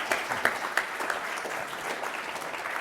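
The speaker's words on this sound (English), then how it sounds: "How about a round of applause for our company?" Audience applause at the 2019 ASU GSV Summit, a dense, steady wash of many hands clapping in a conference room, moderately loud and sustained throughout without talk.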